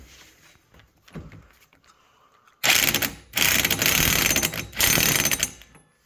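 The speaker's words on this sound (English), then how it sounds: "time to put the castle nut back on" A ratchet wrench tightens a 27mm castle nut onto an ATV CV axle, giving loud close clicking bursts in three runs separated by short pauses after a few quiet handling sounds.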